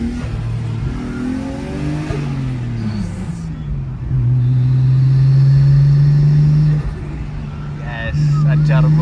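A car's engine and exhaust drone while it is driven. Pitch sweeps up and down through gear changes, then settles into a loud, sustained rev before easing, with a short rise again at the end.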